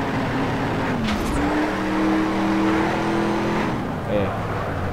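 A muscle car engine in the racing game Need for Speed Shift drones steadily during a drift championship, its pitch climbing and dropping as the car slides through corners, with a brief sweep of higher-pitched noise.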